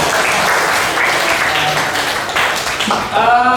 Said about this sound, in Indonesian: Tepuk tangan buat semangat.